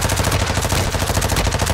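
Rapid automatic gunfire exchanged in Call of Duty MW3, a dense, continuous burst of shots, loud and close throughout with no talk.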